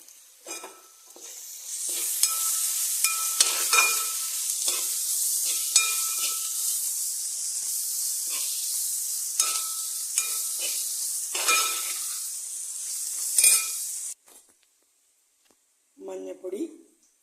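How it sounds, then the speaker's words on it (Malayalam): Onions, chillies, ginger and garlic frying in a pan give a loud, continuous hiss, broken by clinks and scrapes as they are stirred, before the sizzle cuts off; a voice speaks near the end. "സവോള വഴണ്ടുണ്ടെങ്കിൽ നമുക്കിനി ഇഞ്ചിയും വെളുത്തുള്ളി ഇടാം. അത് ഇട്ടിട്ടുണ്ടെങ്കിൽ ഇളക്കി കൊടുത്ത്"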